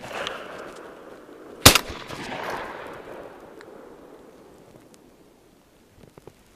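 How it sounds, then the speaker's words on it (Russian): Gunshots fired outdoors in the countryside: one loud, sharp report, then a fainter second bang and a long rolling echo that fades away. "Ну ладно, 2 выстрела, вот все залетало."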